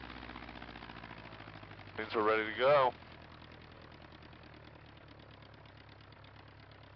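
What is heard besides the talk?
light aircraft piston engine idling on the ground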